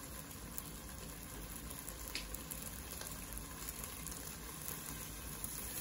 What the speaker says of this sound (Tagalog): Habang ginigisa ang rice